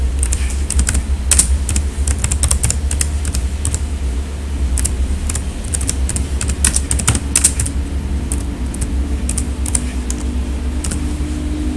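Steady computer-keyboard typing while a Google image search is entered, the keystrokes clicking in quick irregular bursts over a low constant hum, with no one speaking.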